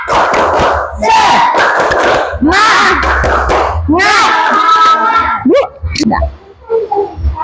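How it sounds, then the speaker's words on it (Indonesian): A classroom of children performs a rhythmic spirit clap, shouting loud chanted phrases in unison with bursts of clapping, then breaking into scattered voices. "Tepuk semangat"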